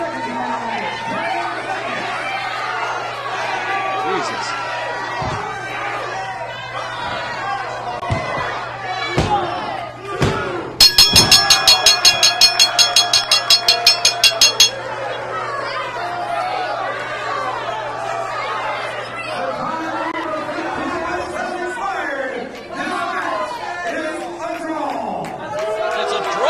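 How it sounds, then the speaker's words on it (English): Pro wrestling arena crowd at a CWA vs TNA match, a continuous roar of cheering and shouting with ring slams and thuds, a rapid burst of clapping or stomping midway, and commentators talking throughout. "This crowd is beside itself."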